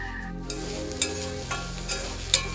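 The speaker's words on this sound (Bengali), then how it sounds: "এখানে লাউয়ের খোসাটা একটু আলু পেঁয়াজ দিয়ে ভেজে নিলাম" Bottle gourd peel frying with potato and onion in a pan, a steady close sizzle broken by a few clinks of a stirring spoon, under a low constant hum, with no voices.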